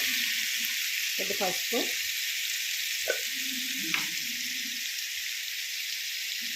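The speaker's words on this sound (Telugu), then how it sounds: "ఇదిగండి ఆయిల్ వేసుకున్నాం కదా. ఇప్పుడు ఇందులో పచ్చిరొయ్యలు అండి, పావు పచ్చిరొయ్యలు అండి ఇవి." Raw prawns with turmeric frying in hot oil, a steady close hiss of sizzling throughout with a few soft stirring clinks and scrapes along the way.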